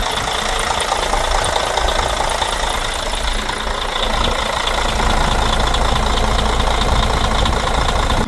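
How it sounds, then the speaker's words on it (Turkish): A Mercedes-Benz Travego bus diesel engine idles with a steady, loud clattering rumble, unchanging throughout, heard up close. "motor sesi bu şekilde arkadaşlar"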